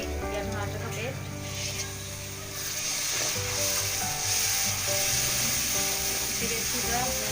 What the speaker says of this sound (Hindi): अब हम इसमें ऐड करेंगे टमाटर प्यूरी या टमाटर का पेस्ट।